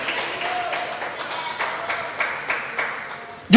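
A church congregation claps during a sermon, a soft, fairly distant wash of applause with a loose rhythmic pulse that fades toward the end.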